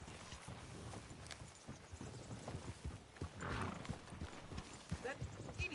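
Horse in Red Dead Redemption 2 walks with a steady, moderately loud clip-clop of hooves under game ambience, while voices talk through most of it.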